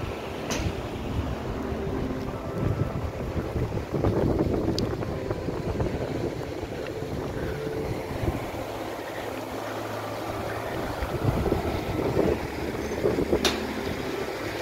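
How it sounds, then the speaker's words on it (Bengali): Cold wind sweeps across Yumthang Valley in North Sikkim, a steady rushing roar buffeting the microphone, with gusts rising and falling and a few sharp knocks over the noise. "দেখুন কতটা ঠান্ডা হাওয়া বইছে"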